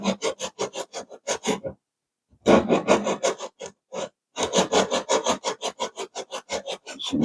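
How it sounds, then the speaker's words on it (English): Sanding the fuselage of a giant scale P47 Razorback model plane by hand, with quick rhythmic rasping strokes in close bursts, then a brief pause before more steady scrubbing strokes. "this needs to get sanded to match the fuse"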